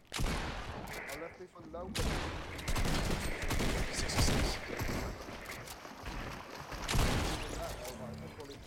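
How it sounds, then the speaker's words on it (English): Gunfire in Fortnite, with rapid bursts of shots firing repeatedly at close range and loud over several seconds, while players talk over the shooting. "We're getting shot from behind us."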